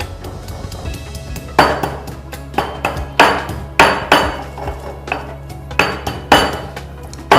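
Repeated sharp crushing thumps of a blade or press coming down on garlic cloves on a kitchen board, irregular strikes close and fairly loud over a low steady hum, with no talking.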